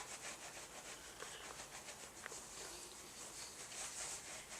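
Soft, steady rubbing of cloth against dirty vintage mohair on a Steiff stuffed animal, a continuous close brushing texture with faint scratchy strokes and no talking.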